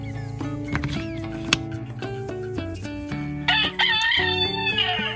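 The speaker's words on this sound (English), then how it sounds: "Rooster" A rooster crows near the end, a loud stretched call from a wooden farm animals puzzle, rising over a bright looping background melody.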